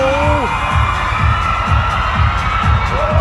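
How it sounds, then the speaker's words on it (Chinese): Excited fans at a male model event in Thailand scream and cheer in a loud, continuous crowd roar, with a heavy rhythmic thumping beat pulsing underneath and a few higher voices rising above. "尖叫声一浪一浪"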